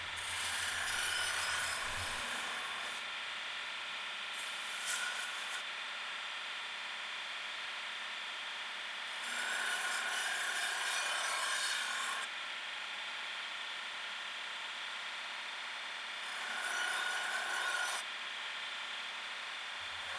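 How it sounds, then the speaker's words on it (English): A belt grinder re-grinds a forged steel BBQ knife blade in four loud rasping passes of about two to three seconds each, with quieter machine hum between the passes and no talking. "So now I've started re-grinding this, taking it back down to where I'm happy before I sharpen it."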